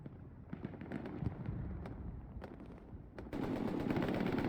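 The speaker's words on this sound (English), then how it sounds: "Just doing some regular shooting here at the moment." Gunfire in Hell Let Loose: rapid bursts of distant-sounding machine-gun and rifle shots crackle irregularly, with a dense, louder volley near the end.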